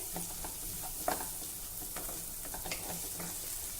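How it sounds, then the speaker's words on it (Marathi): Finely chopped onion sautés in a pan with a low, steady sizzle, overlaid by faint intermittent stirring scrapes and small taps, close but quiet. "एक छोट्या आकाराचा कांदा बारीक कापून घालणार आहे हे आपल्याला व्यवस्थित परतवून घ्यायचं आहे"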